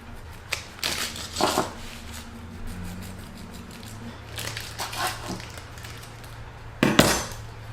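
A knife slices through a soft, moist carrot, pineapple and almond cake, giving a few scraping, clinking strokes against the plate, with a sharper burst near the end and no talk.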